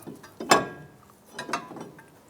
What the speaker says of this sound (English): Let's go ahead and slide our rotor on.